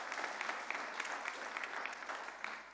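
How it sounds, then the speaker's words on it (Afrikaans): A church congregation claps together at an Easter Sunday service, dense steady applause filling the room for the whole stretch with no voices over it. "Gee vir die Here sommer net 'n hande klap."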